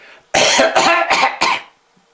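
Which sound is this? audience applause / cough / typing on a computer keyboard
cough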